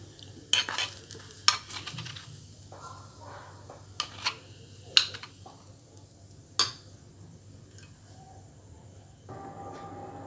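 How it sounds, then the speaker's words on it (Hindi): Vegetable momo filling is stir-fried lightly in a pan: scattered sharp spatula knocks and scrapes come at irregular intervals over a faint background sizzle, with quieter stretches between, and no one speaks. "फिर अभी इसमें मिक्स कर देना, थोड़ा हल्का सा फ्राई कर लिया"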